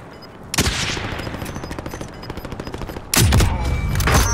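Gunfire in the game Call of Duty: Modern Warfare Warzone: a sharp shot, then a rapid string of automatic fire and a loud second burst, close and punchy over continuous game noise.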